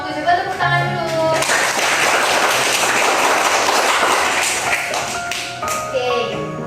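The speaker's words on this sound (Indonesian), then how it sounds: "Coba tepuk tangan dulu" An audience at a campus dakwah talk claps hands together in a dense burst lasting several seconds, between stretches of a speaker's voice before and after.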